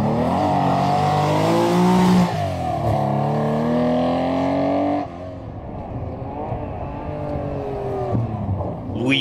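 Porsche rally car on a stage of the Morocco Historic Rally, its engine droning loudly and steadily with shifting pitch as it accelerates, running continuously close by.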